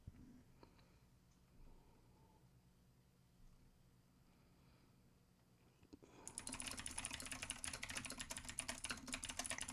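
Rapid, dense clicking of fast typing on a computer keyboard begins about six seconds in and continues steadily to the end, loud and close after a quiet stretch with faint room noise.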